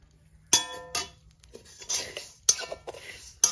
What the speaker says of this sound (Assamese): কেৰাহী গৰম হৈছে, গতিকে সেয়া মাটি দালিখিনিও দি দিলো